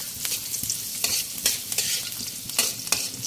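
Garlic frying in a pan after ginger, with a steady close sizzle and a utensil scraping and stirring in short repeated strokes.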